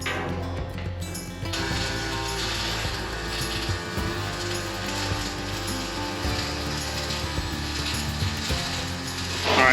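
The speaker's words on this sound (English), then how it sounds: "Next thing I gotta do is I gotta weld the inside of these end caps." Welding the inside of steel end caps on a gold dredge in Alaska, a dense continuous crackling and sputtering that runs steadily and loud throughout, with brief clanks at the start and end.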